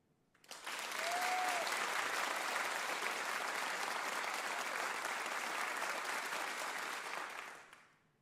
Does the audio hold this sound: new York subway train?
no